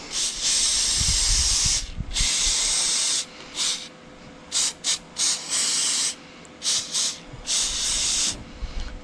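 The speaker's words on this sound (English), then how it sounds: "I want to spray them." Bursts of brake cleaner aerosol spray hiss loudly onto fuel injectors, some long and some short, with brief pauses between, close up.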